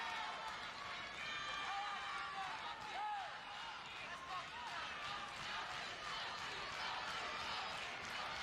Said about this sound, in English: You can hear the crowd cheering for you right there.